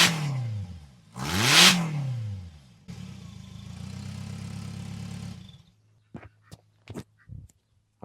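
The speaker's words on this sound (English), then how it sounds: "It just has a real, like just a raspy tone because it's this very small motorcycle muffler" Subaru Sambar engine fitted with a very small motorcycle muffler, revved hard twice up close with a loud, raspy rise and fall, then a steady idle before a few short blips and pauses.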